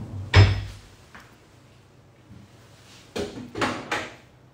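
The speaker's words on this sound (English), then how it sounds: "There's also a drawer below their closets here." A drawer beneath a closet in a university residence hall room is worked: one sharp wooden knock, then a cluster of rattling slides and bumps a few seconds later, close and fairly loud in a quiet room.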